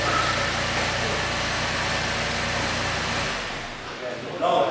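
A GM car engine idles steadily after a remote start, a low continuous hum that drops away near the end as other faint sounds take over.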